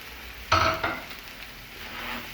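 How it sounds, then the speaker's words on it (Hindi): Spices fry in a pan while being stirred, a sizzling hiss with a couple of sharp scraping bursts of the spoon, close and fairly loud, then settling into a steady low sizzle. "इन मसालों को 2 से 3 मिनट के लिए मज़ीद भून लेना है"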